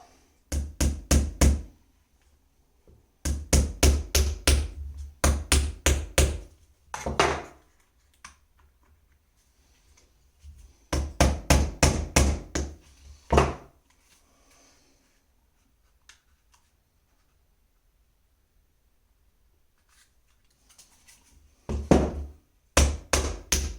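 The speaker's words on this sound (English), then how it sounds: "Hammer it in like this." Sharp hammer taps drive a part into a VFC MP7 GBB airsoft gun, coming in quick bursts of five to eight close, crisp knocks separated by pauses, with a few single strikes between bursts.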